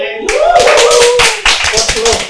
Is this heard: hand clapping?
yes